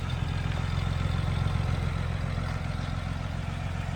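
A 1937 Nash Lafayette 400 engine idles steadily outdoors on a hot day, a continuous low rumble with light clatter, even and unbroken throughout with no voices.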